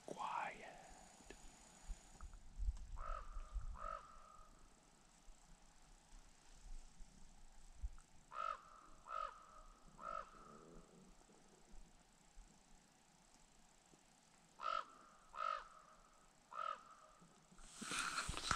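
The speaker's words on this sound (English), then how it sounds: "I'll take a crow, my buddy the crow." A crow caws outdoors in a snowy winter camp by an ice-fishing spot, giving short bursts of harsh calls in groups of two or three, spread out and fairly distant, with quiet background and some faint murmuring between calls.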